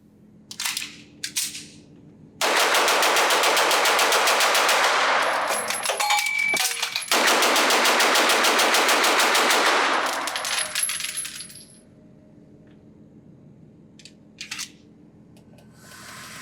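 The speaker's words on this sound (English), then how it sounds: "And wow, I can shoot this gun fast." A Nighthawk Custom BDS9, a hand-fit double-stack 9mm 1911 pistol, fired outdoors at a range in two long, loud, rapid strings of shots separated by a brief pause, with a few isolated pops before and after.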